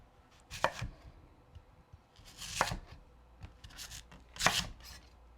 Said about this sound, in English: So now the yams being peeled, and I'm going to cut them to about 1 inch rounds